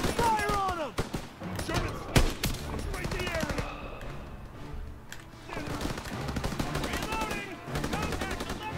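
Dense bursts of automatic and rifle gunfire fill a Call of Duty WWII battle, with rapid machine gun volleys and sharp single shots throughout, under shouted soldier voices.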